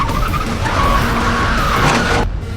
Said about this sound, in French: l'homme a soudainement accéléré devant ma voiture, puis a freiné immédiatement.